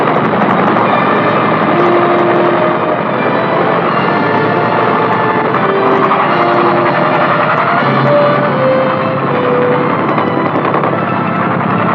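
A loud, steady 1964 US Army helicopter engine drones without pause, a dense mechanical roar with faint whining tones and no voices.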